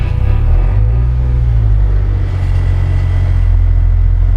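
A tuned Polaris 1500 engine idling close by, a loud, steady low rumble with a throbbing vibration and a slight rise and fall in pitch, with no talking.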